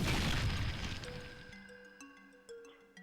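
A fiery explosion sets an object ablaze in Final Fantasy IX, a loud boom with a broad rumbling roar that fades over a few seconds, leaving ringing game tones and small pops.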